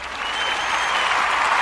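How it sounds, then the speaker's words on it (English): Steady, dense applause from a crowd, continuous and fairly loud across the whole moment, with no voices above it. "Yes, I need your applause."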